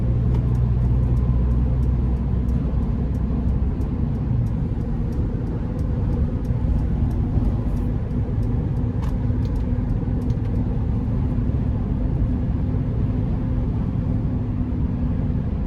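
A 2023 Mercedes-Benz Sprinter conversion van, a Midwest Automotive Designs Luxe build, cruises down the interstate, making a steady, loud interior road and engine drone with occasional faint ticks and no talking.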